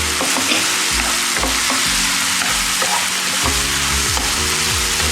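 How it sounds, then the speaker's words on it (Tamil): Steady, loud sizzling of tomatoes sautéing in a pan with turmeric and chili powder, with occasional scraping from stirring, continuous and close. "தக்காளி ஒரு ரெண்டு நிமிஷம் வதக்கலாம்"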